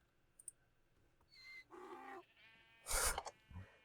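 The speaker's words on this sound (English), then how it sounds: "I think it was the sheep that made the noise" A Minecraft sheep bleats in a video game, with a couple of short, quiet bleats and a louder one near the end against soft clicks and near silence.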